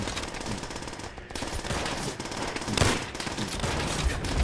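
Rapid, continuous bursts of automatic gunfire in the video game Call of Duty: World at War, Berlin level, synthetic and game-like, loud and dense, with a few heavier blasts mixed in and no speech.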